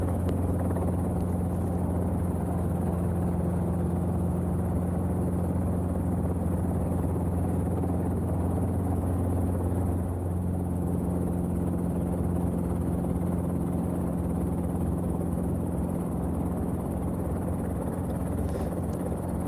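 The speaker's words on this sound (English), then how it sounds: "getting close to the runway, I'm pulling the collective and the helicopter yaw to the right" Robinson R22 training helicopter hovering near a runway for landing, a steady loud rotor drone and engine hum with a constant low throb, continuous and close, with no talk.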